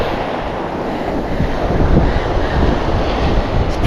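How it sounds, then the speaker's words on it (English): Strong wind buffets the microphone at Lido Beach, roaring continuously over the wash of breaking surf, loud and unbroken throughout. "Unbelievable wind."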